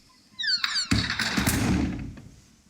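A door slam used as a sound effect in a video edit: one loud, close thump with a broad impact, briefly preceded by a rising squeak-like sweep, then fading out over about a second.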